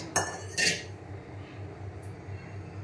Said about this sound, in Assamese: এতিয়া মই ভাতৰ থালিখন সজাই লওঁ